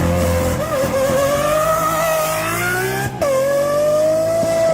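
A car engine with a stainless steel exhaust revs loudly and steadily up through its range, close by at a car show, with a brief dip before climbing again.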